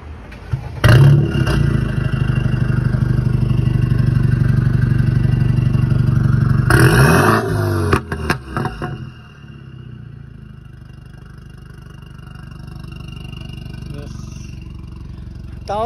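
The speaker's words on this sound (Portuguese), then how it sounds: "Tal da BMW é escandalosa no Pops and Bangs, hein?" A BMW 320 with an M3 kit revs loudly up close, with clattering pops and bangs from the exhaust. The revving falls off partway through and the engine settles to a lower idle. People talk around it.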